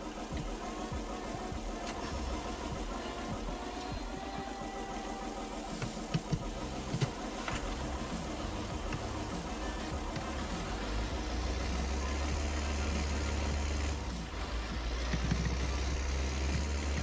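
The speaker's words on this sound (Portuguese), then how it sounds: "Deixa eu botar o teu trator pra frente aqui." A tractor engine in the video game Farming Simulator 19 runs continuously, a low mid-pitched drone with a faint knock. It stays loud and close throughout, and the pitch drops and deepens toward the end as the engine load shifts.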